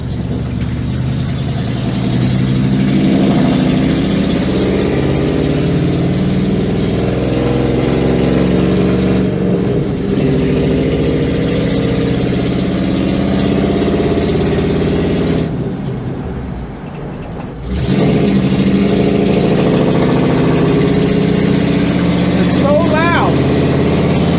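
A 1987 GMC Jimmy's engine runs loudly as the truck drives down the road, a steady mid-range drone with rising and falling revs and a brief drop in level partway through.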